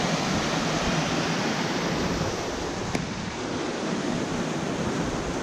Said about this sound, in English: Lovely sound of running water.